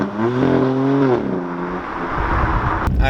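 A BMW M4 engine revs hard while the car slides sideways, a loud sustained roar with rising and falling pitch that drops off toward the end.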